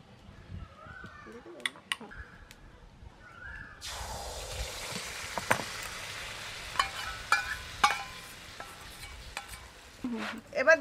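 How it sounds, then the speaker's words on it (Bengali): Ghee heats in a kadai, a steady bright sizzle and crackle starting abruptly and continuing with scattered pops and stirring clinks, while a person talks at the start. "কড়াইতে আমি এবার একটু দিয়ে দেব ঘি।"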